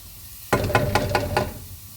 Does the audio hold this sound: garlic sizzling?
yes